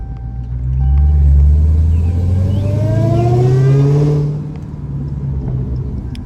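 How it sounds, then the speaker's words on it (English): A Dodge Hellcat's engine roars up loud and close, climbing in pitch as it revs through a gear shift, then drops back to a steady rumble. "Why my car seem like it's shifting weird?"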